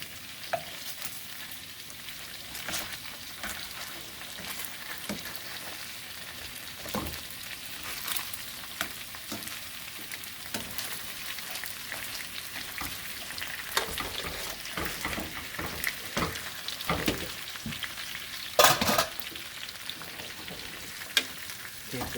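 Lamb loin chops sizzling steadily in a pan after being flipped, a continuous crackling hiss with scattered pops and a few utensil knocks, close and moderately quiet, no talking.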